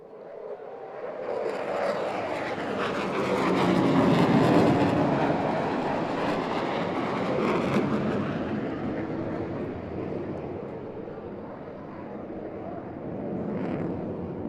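Jet aircraft from a diamond formation team flying an opposing maneuver at a beach airshow, pulling 6 g; a broad, loud roar swells and fades steadily across the whole stretch, with a brief higher whine near the end.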